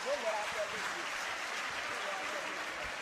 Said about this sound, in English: give Montserrat a very big hand of applause